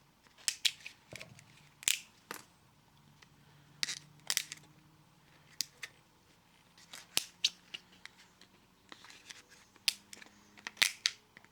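Sharp snips of flush cutters nipping support struts off a resin 3D print, about a dozen crisp clicks in irregular clusters, close and fairly quiet with near silence between cuts.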